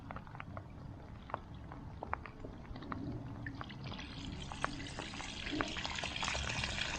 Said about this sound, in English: We've got a trickle of water going in it